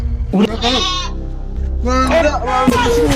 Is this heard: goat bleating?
yes